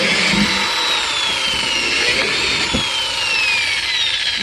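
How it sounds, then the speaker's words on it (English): A power drill drilling holes in a plant pot whirs steadily and loudly for several seconds, a continuous grinding buzz with a faint high whine, no talking. "I drill 3 holes on each side."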